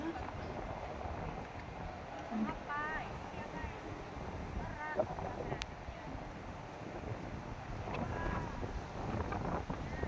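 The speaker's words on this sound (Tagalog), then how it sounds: "Lakas ng hangin." Steady wind buffets the microphone with a constant rumbling roar, faint calls and chatter drifting underneath.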